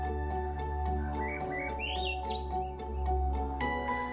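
A wild bird sings on a mountain trail climbing from Crawford Notch in the White Mountains, giving clear, close whistled phrases and rising chirps over a low steady hum, with no voices.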